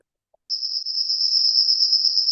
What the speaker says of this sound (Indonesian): Ini suara jangkrik yang tadi.